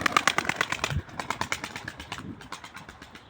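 A male tumbler pigeon outside its coop gives a short burst of soft cooing and fluttering, close by, with brief rustling pulses over about three seconds.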